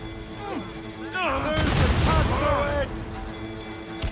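Ship cannons boom in a naval battle in Assassin's Creed Rogue, a burst of heavy shots and explosions in the middle, layered over game music and effects with voices talking.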